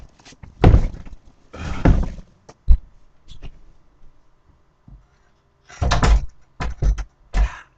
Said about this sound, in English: I want to close my door.